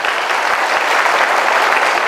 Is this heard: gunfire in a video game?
no